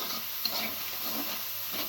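Prawns sautéing in a pan with pepper and red chili powder, heard as a steady close sizzle and frying hiss broken by light stirring scrapes, with no talking.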